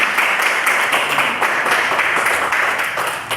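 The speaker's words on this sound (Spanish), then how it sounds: "Dele un fuerte aplauso al Señor." A church congregation at Peniel Church Cali breaks into steady, dense applause that fills the room, a loud continuous patter of many hands clapping with no pauses and no voices over it.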